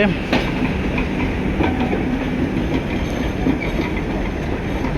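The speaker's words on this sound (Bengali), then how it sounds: "মধুমতি আন্তনগর এক্সপ্রেস। ঢাকার কমলাপুর থেকে ছেড়ে এসেছে" The Madhumati intercity express passes close by with loud, steady rumble and rhythmic clickety-clack of wheels over rail joints, continuous for the whole stretch.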